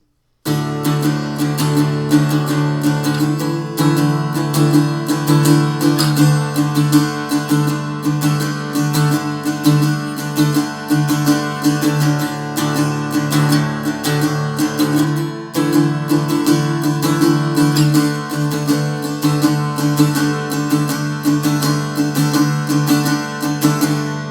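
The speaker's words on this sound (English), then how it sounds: "Now into the chorus, it's going to sound like this" Guitar strumming the chorus chords of a song, a steady, full-bodied rhythmic pattern of repeated chord strokes played alone without any voice.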